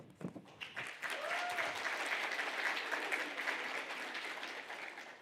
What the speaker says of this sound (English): I would ask the graduate to join me in a round of applause